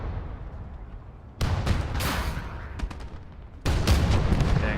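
Cannon and small-arms fire in the Gates of Hell war game: a low battlefield rumble broken by sharp, close gunshot cracks and heavy booming blasts, with a fresh loud volley near the end.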